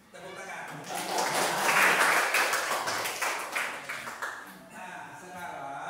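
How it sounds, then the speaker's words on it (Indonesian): Students in a classroom clap their hands together in a dense burst of applause that swells and then tapers off, with voices talking over it. "tepuk tangan"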